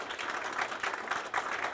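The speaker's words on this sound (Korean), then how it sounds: "전부 박수를 한번 다시 좀 보내주시기 바랍니다." An audience applauds at a statue unveiling ceremony held at a Korean residents' association building in Kyoto, a soft, even patter of clapping lasting under two seconds without a clear start or end.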